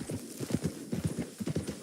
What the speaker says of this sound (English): The hours passed, horses' hooves steady and relentless.